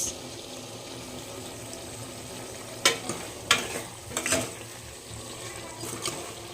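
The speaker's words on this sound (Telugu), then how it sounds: "ఇప్పుడు కూర అయితే ఉడుకుతుంది ఫ్రెండ్స్" Chicken curry simmering and sizzling in a pan at home, a steady bubbling hiss broken by a few sharp stirring clinks and scrapes, close by with no talk.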